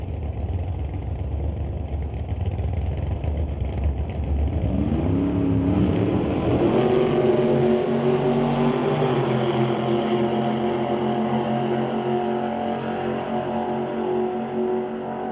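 Two drag racing cars, a Chevelle and a Bel Air, idle loudly at the line at Mission Raceway Park, then launch with a swelling roar and rising engine pitch that fades slowly into the distance, with no voices.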